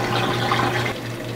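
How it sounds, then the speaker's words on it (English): Rinse water draining out of a Giantex washing machine, a steady close rushing and gurgling flow with a constant low hum, easing slightly toward the end. "the rinse water is draining out of the washer"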